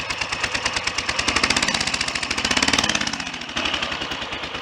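A Triumph Trident motorcycle engine idles at tickover on a single cylinder after carburettor cleaning, a loud close rapid chuffing beat that wavers slightly in pace.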